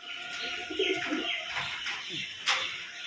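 Pigeons coo softly and repeatedly inside a pigeon loft after feeding, with a few light chirps and wing flutters in a close, steady background murmur.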